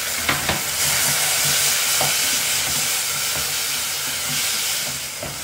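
Chicken and onions frying in a pan with Arabic spices while being stirred, a continuous loud hiss and sizzle with scraping stir strokes coming at intervals, heard close up.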